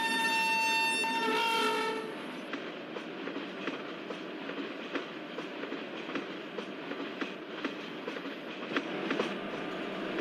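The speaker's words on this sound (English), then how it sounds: "we can see that another train is crossing the Kadapa station" At Kadapa station in a train simulator, a passing train rumbles with steady clickety-clack over the rails, following a horn blast that fades in the first two seconds, the rolling rhythm continuing near and steady.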